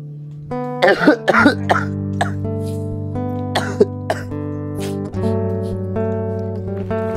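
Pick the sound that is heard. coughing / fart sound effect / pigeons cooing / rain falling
coughing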